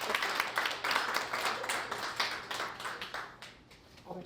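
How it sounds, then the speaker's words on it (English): Audience applause at a university keynote event, a steady patter of many hands clapping that fades gradually toward the end, moderately quiet with no talk over it. "A round of applause for Suzanne."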